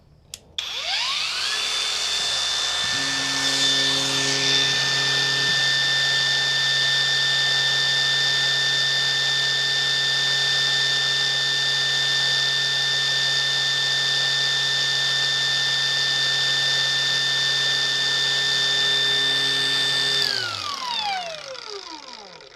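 A Ryu RCG20V cordless brushless angle grinder spins up and runs unloaded at a steady, high whine for about eighteen seconds, then powers down, loud and close with no talking.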